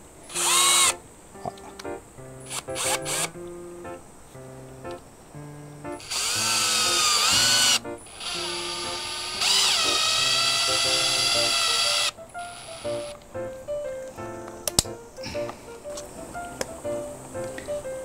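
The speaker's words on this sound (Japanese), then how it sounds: "ドリルのチャックにかまして回せば簡単に取り付けます" An electric drill whirs in two sustained high-pitched runs while tightening a valve onto air tubing for an aquarium filter, with shorter start-stop bursts and clicks of handling around them, fairly close.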